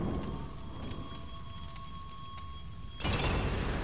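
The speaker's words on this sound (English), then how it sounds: "Explosions!" A barrel blows up in the video game Tomb Raider, a sudden loud broadband blast bursting in near the end after a quiet stretch of steady rain-like patter.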